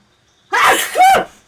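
Someone sneezes once, close and loud, a sharp two-part burst with a short intake and then a forceful release, in an otherwise quiet room.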